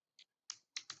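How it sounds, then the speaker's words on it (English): Four quiet, close keystrokes on a computer keyboard: a single tap, a pause, then three quick clicks in close succession, with silence between. "now I'm going to start typing this up"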